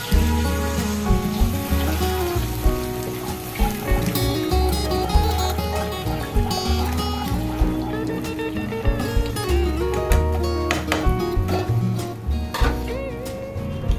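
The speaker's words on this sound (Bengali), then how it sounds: "এবার এখানে আমি পরিমাণ মতো জল দিয়ে দিলাম" Water poured into a hot pan of fish in milk sets off a loud, close sizzle that hisses and bubbles steadily throughout, with faint clatter from the pan.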